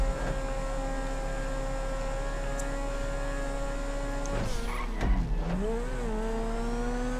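A Rapid GT sports car's engine races in GTA V, a steady droning hum that surges and shifts pitch near the end as the car revs and brakes.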